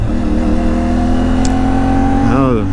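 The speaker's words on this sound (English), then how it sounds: "You might have heard the jerkiness of the throttle, which I've read about." An IBEX 450 motorcycle engine drones loud and close, its pitch wavering as the jerky throttle opens and closes, then rising in a quick rev near the end.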